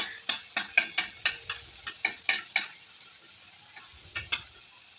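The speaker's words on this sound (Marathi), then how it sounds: "कढईमध्ये थोडेसे तेल टाकले, त्यामध्ये जिरे आणि थोडेसे कट केलेले जे मी लसूण होते ते मी त्यामध्ये कुटके ॲड केलेत" Cumin and chopped garlic frying in a little oil in a wok, with a rapid series of sharp spatula scrapes and taps over a soft sizzle, then a few more scattered strokes, close and clear.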